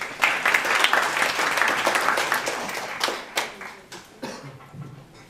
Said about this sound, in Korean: 마지막 발표 대표님께 박수 좀 부탁드리겠습니다